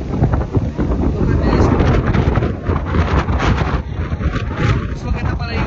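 Strong wind buffets the microphone at Folly Beach in South Carolina, a near, rough, gusting roar that rises and falls throughout while people talk underneath.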